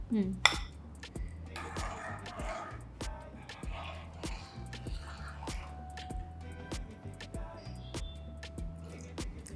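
Ragi java, a finger-millet porridge, being stirred in a metal vessel, a spoon clinking and scraping against the sides in a steady repeated rhythm, close and moderately loud.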